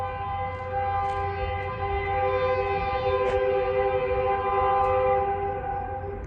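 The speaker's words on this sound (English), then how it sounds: "there's a train track" A train rolls past on a nearby track beside a building, its steady loud rumble and sustained horn-like tones continuing without pause and with no voices.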